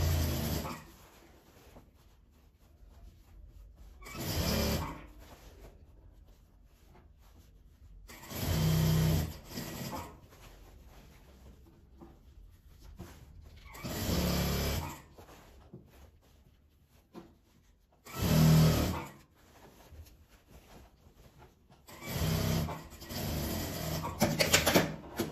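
A sewing machine stitches a reversible lined fabric bag in short, separate bursts of steady mechanical whirring, each a second or two long, with quiet pauses between them.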